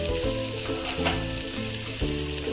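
Turmeric and chilli powder sizzle loudly in hot oil with browned onion in a pan, a steady close frying hiss broken by a few stirring scrapes, no talking.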